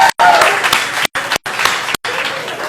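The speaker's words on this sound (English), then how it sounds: "So please give them a round of applause." Audience applause at a live event premiere in a smokehouse venue, a few seconds of crowd clapping broken by abrupt dropouts to silence, fairly loud and close.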